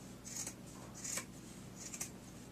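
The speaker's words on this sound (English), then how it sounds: "hopefully these scissors will go through all the way" Scissors cut through thick sweater fabric in three slow, crunchy snips, quiet and close, with no talking.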